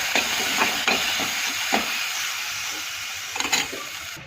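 Ground masala and tomato sizzle steadily as they roast in a pan for an onion and potato curry, a loud continuous hiss with faint stirring clicks and no talking.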